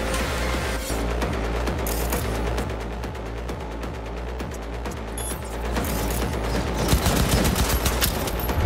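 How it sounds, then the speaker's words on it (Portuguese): Rapid sustained automatic gunfire blasts in Cyberpunk 2077, dense and loud with mechanical clicks mixed in, firing continuously without pause. "Tô dando tanto tiro, não tá diminuindo não, mano."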